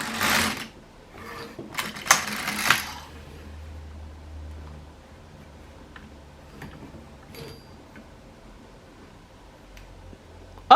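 An LK150 knitting machine carriage is pushed backward across the needles, giving a loud, scraping sliding rush near the start, then quieter mechanical clicks and ticks, with a sharp knock at the very end.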